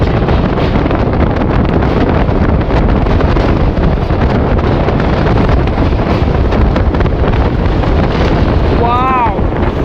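Strong wind buffets the microphone over the Teesta river, seen from a train crossing toward Sevoke bridge in the Dooars; a steady, loud roar fills the whole stretch, with a brief tonal call rising near the end.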